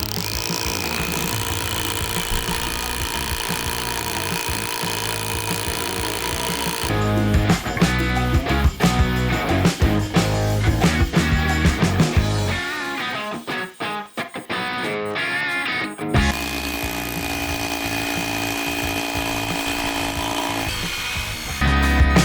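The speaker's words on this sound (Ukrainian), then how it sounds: "зробив 56 отворів, е, бур 8 мм" A ProCraft HD 20A cordless rotary hammer drills holes with an 8 mm bit into reinforced concrete, a loud, close, continuous hammering roar whose tone shifts midway before steady drilling resumes, with no talking.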